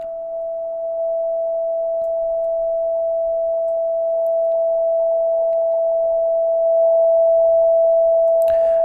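A steady pure radio carrier tone from a Canadian meteor orbit radar receiver holds one unchanging pitch, loud and continuous, rising slightly as gain is added, with a brief click near the end.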